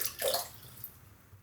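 Water wrung from a wet badger shaving brush at a sink, a short splashing gush at first, then thin dripping that trails off.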